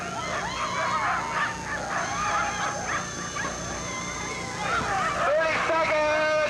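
Sled dogs at the start of the 1992 Bear Grease Sled Dog Marathon, a crowd of yips, whimpers and excited barks overlapping continuously, loud and close, with people talking through the din.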